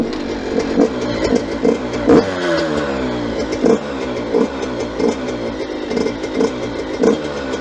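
An 85cc motocross bike engine runs and revs repeatedly, a raspy two-stroke buzz rising into sharp blips roughly every second or so, loud and close with no talking.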